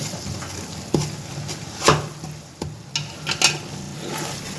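Yogurt frying with spices in a pan for pasande boti masala, a soft steady sizzle broken by several sharp scrapes and clinks of a spoon stirring against the pot, close and alone.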